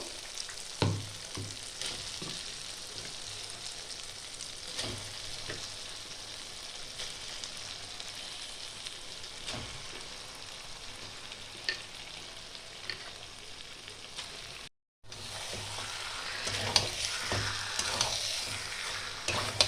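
Chicken pieces sear in a cooked spice masala for chicken do pyaza, giving a soft, steady sizzle with sporadic stirring knocks and a brief dropout near the end before the frying resumes.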